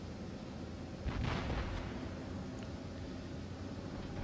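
Anti-aircraft guns on a warship in World of Warships fire a short, loud burst against a steady roar of wind and engine noise, then the noise continues alone.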